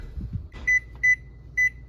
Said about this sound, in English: I'm gonna set the timer.